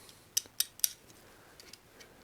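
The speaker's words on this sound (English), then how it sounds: "I think I got to get a razor blade and just cut this little do-jabber off" Three sharp snipping cuts in quick succession from a razor blade trimming a small piece off a bicycle tire during a Trek 6500 mountain bike reconditioning, followed by a few fainter handling clicks.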